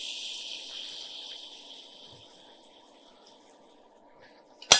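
Water poured into a pan of chopped onion and tomato paste for a mushroom masala, a steady soft hiss of pouring and splashing that fades gradually, ending with a brief sharp clatter.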